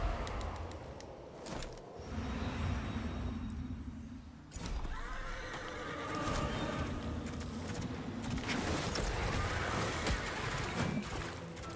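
A horse in the video game Lords of the Fallen neighs in a drawn-out whinny, set among rumbling in-game noise and clattering effects.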